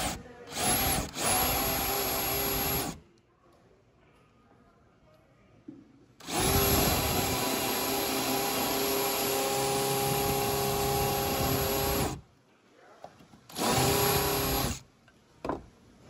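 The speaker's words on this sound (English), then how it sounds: "let's see what this DeWalt drill is working with" A DeWalt cordless drill driving a screw into wood whirs loudly in three bursts, a short one, a long sustained run, then a brief one, with quiet pauses between and no talking.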